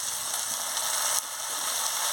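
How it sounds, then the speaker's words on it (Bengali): Ground ginger, garlic and chili paste fries in hot oil for a catla fish curry, giving a constant close sizzle with a small flick midway and no talk. "দিয়ে ভালো করে মশলাটাকে ভেজে নিচ্ছি"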